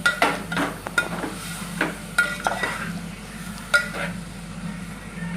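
Vegetables for veg biryani are stirred through masala in a pan, with repeated scraping and clinking strokes over a soft steady sizzle, close and moderately loud.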